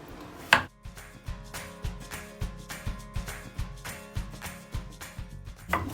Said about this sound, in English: I'm chopping up about 1 large carrot and a medium one.